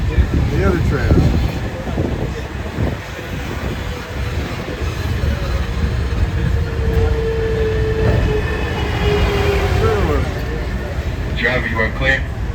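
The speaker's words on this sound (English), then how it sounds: "the other tram." A Disneyland Resort tram rolls along on its rails with a low rumble and wind noise throughout, a tonal squeal rising near the end, while voices talk and announcements play over it.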